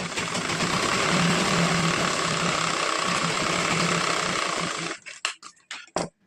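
A sewing machine runs a long continuous stitching burst along a blouse, steady whirring hum close by, then a few short start-stop stitches at the end.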